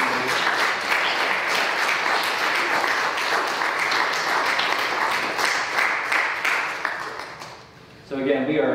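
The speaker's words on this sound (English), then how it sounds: "just applaud them as well with our seniors" A crowd applauds steadily for several seconds at a church service honoring graduating seniors, dense clapping that fades out near the end before a voice begins.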